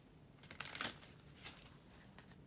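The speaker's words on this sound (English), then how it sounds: "Let me just shuffle one time to clear this energy." Tarot cards being shuffled by hand, a quiet burst of soft riffling and flicking strokes up close, with a few fainter follow-up shuffles after a short pause.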